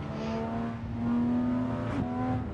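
A Porsche in the racing game Assetto Corsa drives past, its engine note droning steadily and then shifting as it goes by, with no talk over it.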